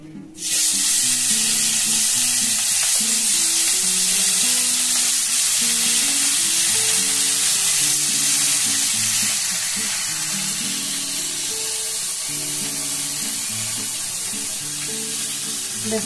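Pieces of katla fish fry in hot oil, producing a loud, steady crackling sizzle that begins abruptly and holds strong throughout, with faint clinks of utensils in the background.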